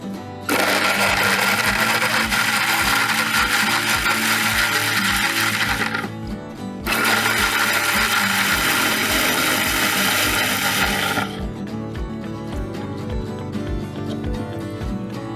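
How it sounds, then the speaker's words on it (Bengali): A kitchen blender purees tomatoes with grilled garlic and onion for soup: two loud, whirring runs with rattling clicks, the first about six seconds and the second shorter, then a lower hum, with no speech. "আর একটু টমেটো আছে, আমি এখন ব্লেন্ড করে নিচ্ছি।"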